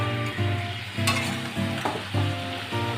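Raw jackfruit, boiled with salt and turmeric, is stirred into spice paste frying in a pan, with a loud, continuous sizzle broken by regular scraping strokes about every half second.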